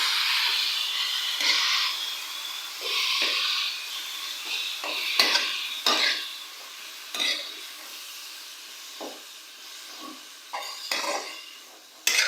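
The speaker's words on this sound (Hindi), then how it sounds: "मिक्स करेंगे कीमे को।" Beef mince stirred and fried in a pan, with a steady sizzle and repeated clinks and scrapes of a utensil against the pan, close and moderately loud, no talking.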